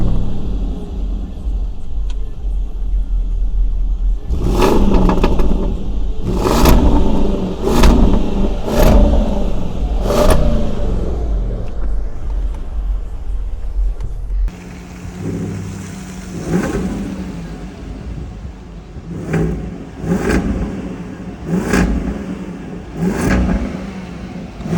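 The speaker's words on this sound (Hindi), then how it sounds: "अभी चालू करके दिखाएंगे ना, गुर्राती है गाड़ी एकदम।" A Land Rover Defender V8, eight cylinders with twin exhausts, is started and revved repeatedly, each sharp throttle blip rising into a deep growl over a rumbling idle, heard close and loud with no talk.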